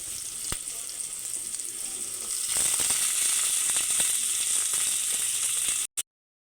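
Tomatoes and onions fry in a pan for a jackfruit dum biryani, a steady broadband sizzle with a few scraping spatula clicks, growing louder midway and cutting off abruptly near the end.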